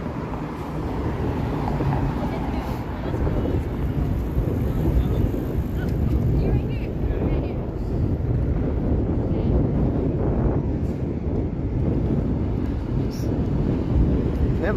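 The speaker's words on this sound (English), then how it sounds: "Never-ending wind." Strong, relentless wind on a windy city evening in Toronto buffets the microphone in a loud, continuous roar that muffles the street around it.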